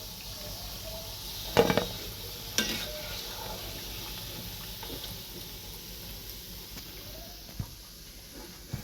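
Khasta kochuri, a flaky stuffed Bengali pastry, crackle as they deep-fry in oil. A low, steady sizzle runs throughout, with a few clattering knocks of a utensil near the start and faint scattered pops later.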